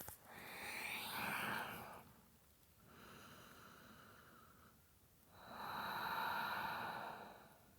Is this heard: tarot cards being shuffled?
no